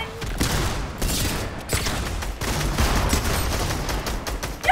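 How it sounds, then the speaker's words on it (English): Rapid gunfire from shooting robots in the video game Fortnite, a dense, steady barrage of shots with bursts and booms running through the whole stretch at close range. "When you start shooting those robots."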